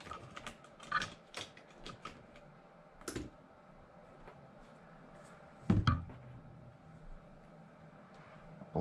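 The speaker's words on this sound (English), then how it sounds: "So I got to get this front sway bar off." Small metallic clicks, taps and brief ratcheting from hand tools working loose the front sway bar on an RC car, scattered and close, with a louder clatter near the end and no talking.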